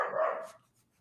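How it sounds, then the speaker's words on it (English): A small dog gives a single loud bark close by, the sound trailing off quickly into quiet, with no talking over it. "Steph's dog is not happy with Steph right now"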